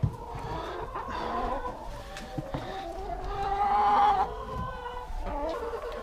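Hens clucking and murmuring close by on a farm, with a longer rising cackle midway, over a busy background of other birds.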